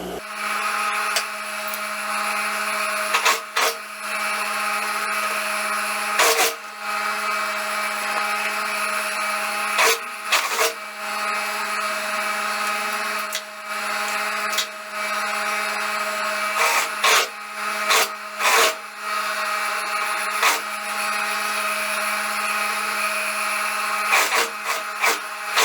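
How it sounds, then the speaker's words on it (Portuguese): A sewing machine stitches a skirt lining to the fabric at the waist, a steady close mechanical whir running in long bursts with brief pauses and restarts, no one talking. "pra passar agora uma costura aqui, ó, unindo aqui esses dois tecidos na parte da cintura"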